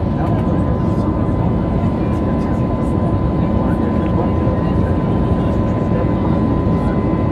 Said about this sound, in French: l'avion semble opérer un virage qui donne une meilleure vue